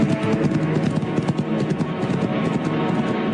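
Horse hooves clip-clop steadily on hard ground, a close, rhythmic patter of many overlapping steps that continues for the whole stretch with no voices.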